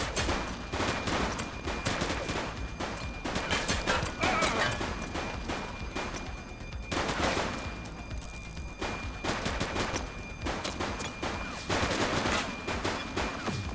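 Gunfire in the police game The Precinct crackles in rapid, repeated shots and bursts, dense and continuous at moderate volume with brief lulls.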